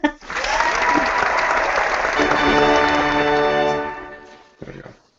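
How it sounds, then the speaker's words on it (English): Audience breaks into a burst of applause during a podcast event, a dense sustained clapping mixed with sustained musical tones that fades out toward the end before a brief final sound. "How about some applause?"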